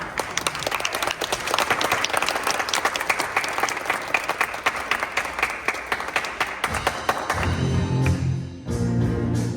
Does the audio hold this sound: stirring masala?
no